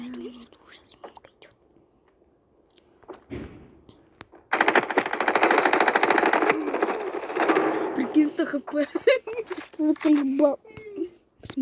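A rapid burst of automatic gunfire from a video game clatters for about three seconds, followed by people chatting and laughing over faint game sounds.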